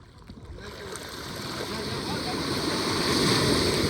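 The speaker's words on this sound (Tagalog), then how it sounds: "Lakas ng alon, no?" Strong waves wash in at a beach, a rising hiss and rumble of surf that grows louder and fuller over a few seconds, with faint voices nearby.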